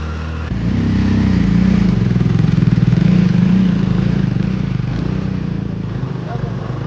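Scooter engine droning loud and close on a rough, badly broken mountain road near a hill, steady with slight rattle and variation in pitch, no clear talk over it.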